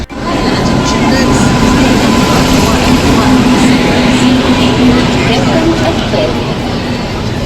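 A train arrives at Lonavla station, a loud steady rumble and roar of engine and wheels filling the platform throughout, with a faint high whine on top.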